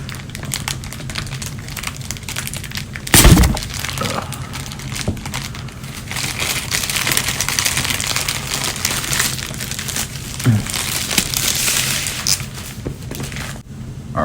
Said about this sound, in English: I don't have my original unboxing knife, so we're going to use this big ass kitchen knife.